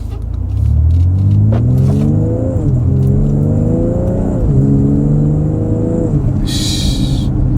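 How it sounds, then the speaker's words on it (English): A car engine in sport mode revs up in a rising whine, drops as the automatic transmission shifts gears, then climbs again several times, loud and close. "let's see if you can hear the shifting. It's in sport mode right there."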